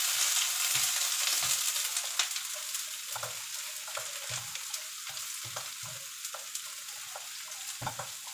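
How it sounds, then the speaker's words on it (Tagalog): Sliced onions caramelizing in a pan give a steady, fairly quiet sizzle and crackle, broken by soft repeated scraping and stirring strokes. "lalagyan ko sa ating sibuyas. Caramelize naman sa mga sibuyas"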